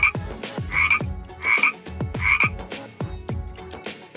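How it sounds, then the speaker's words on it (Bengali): A frog croaks close by about five times in a steady, evenly spaced rhythm, each call a loud, rasping burst, with no voices around it. "ব্যাঙ ডাকে বর্ষাকালে"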